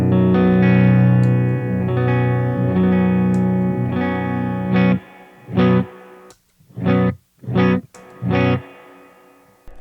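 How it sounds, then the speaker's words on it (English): Electric guitar chords through the reverb of a Mesa Mark V amplifier ring out with a lush, spacious tail, sustained strums first, then several short bursts separated by gaps where the echo decays. "So the reverb sounds really great"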